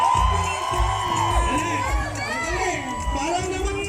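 A large crowd of Marikina residents shouts and cheers at a busy gathering, a loud mass of overlapping yells and whoops with rising and falling voices throughout.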